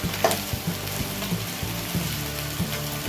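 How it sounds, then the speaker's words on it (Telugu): Fresh coriander leaves fry in hot oil for a pickle, giving a steady, close sizzle with low rhythmic stirring scrapes every half second or so, and no voices. "ఇది కొంచెం ఆయిల్లో బాగా మగ్గాలి"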